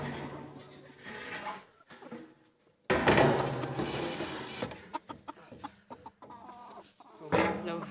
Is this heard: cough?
no